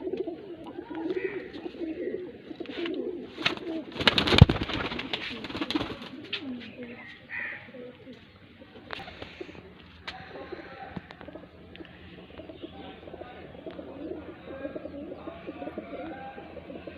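Pigeons in a hobbyist's loft, among them a female, give low repeated cooing throughout, mixed with rustling and a loud burst of handling noise near the start, while someone talks intermittently.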